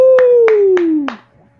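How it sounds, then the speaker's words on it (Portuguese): Four evenly spaced hand claps at a cultural gathering ring out close and sharp over a single sustained, gradually falling voice, then fade into quiet. "palmas!"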